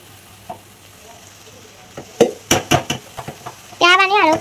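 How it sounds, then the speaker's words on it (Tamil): White rice tossed in a pan with red chilli sauce for lunch-box fried rice, with scraping stirs and clinks building to a loud sizzle near the end, close up with no speech. "ரைஸ் மிக்ஸ் பண்ணிக்கோங்க நல்லா"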